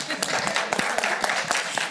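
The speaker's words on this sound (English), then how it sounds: "feel free to applaud the panelists at any time" Audience applause at a panel on US water and sanitation services during a world water event, a dense mix of many hands clapping at close range, with talking mixed in.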